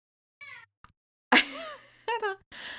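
A cat meows several times in short, clear calls, close by, with a brief gap of silence between the first meows and the louder later ones.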